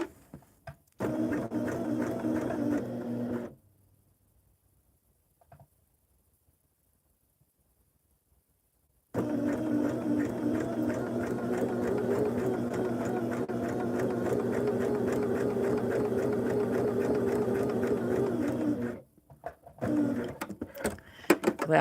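A sewing machine stitches quilt fabric in a steady, fast, continuous whir with a few seconds of silence between two long runs, loud and close with no talking.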